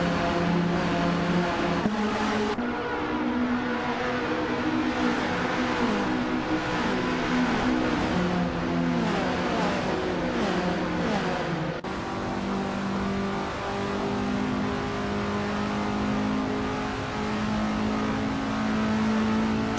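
Engines of 1979 Estonia 20 race cars in a racing video game, a continuous nasal drone with rising revs and repeated gear-shift steps, layered as several cars run together at steady loudness.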